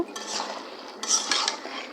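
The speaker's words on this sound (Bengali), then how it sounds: "এদিকে করলাটা আর একটু নেড়ে চেড়ে দিলাম, প্রায় অর্ধেক রান্না হয়ে এসছে করলাটা ভাজা" A utensil stirs bitter gourd (karela) frying in a pan, giving a few close scraping clinks and a soft sizzle in short bursts, with no talk.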